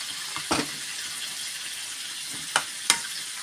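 A little water hits a curry sizzling in a pan, a soft steady frying hiss punctuated by three sharp splashy bursts, fairly quiet and close, with no talking.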